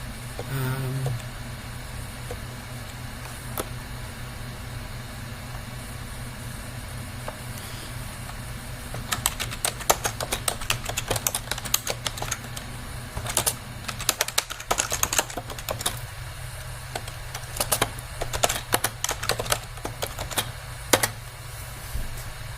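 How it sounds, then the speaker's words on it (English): Keys clatter on a computer keyboard in bursts of quick taps over a steady low hum, sparse at first then denser typing through the second half. "oh shoot, I just typed something"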